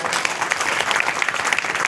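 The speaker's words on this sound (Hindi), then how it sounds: "तालियों से स्वागत करें" A crowd at a fair's cultural programme bursts into brisk, close applause, sharp individual claps standing out in a short, lively burst with no speech.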